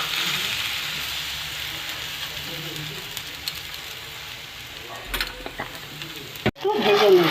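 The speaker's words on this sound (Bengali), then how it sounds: "একটু ভেজে নেব।" Food frying in a pan while a breakfast dish is cooked, a soft continuous sizzle with a few scrapes and clatters of utensils, followed by a short clunk.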